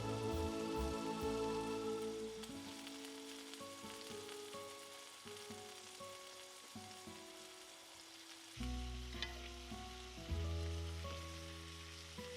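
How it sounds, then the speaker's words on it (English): Entrecote steak sizzling in a frying pan, a steady, soft crackling hiss heard beneath sustained background music. "gently lay the steak in the pan"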